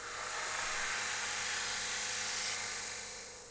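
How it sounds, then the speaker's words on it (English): A sanding belt grinds and polishes a knife blade on coarse grit, around 40, giving a steady, loud, high-pitched whine that holds for several seconds before easing off slightly at the end. "polishing on the sanding belt must be done gradually, stepping down the size of the grit little by little."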